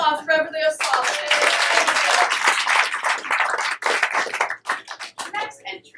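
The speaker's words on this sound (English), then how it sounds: "A round of applause for Beverly O'Sullivan." An audience claps in dense, lively applause from the start, holding steady before thinning into scattered claps and trailing off, with a few voices calling out at the edges.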